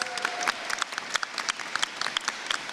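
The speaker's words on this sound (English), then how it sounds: "Can we give her another round of applause?" Applause at a governor's legislative announcement, crisp individual claps over a steady crowd wash, fairly close and continuous throughout.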